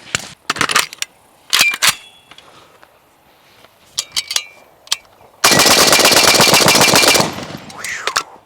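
7.62 rifle with a factory muzzle brake firing at a range: several sharp, loud single shots, then a rapid sustained burst lasting about two seconds, followed by clinking and a few more scattered reports.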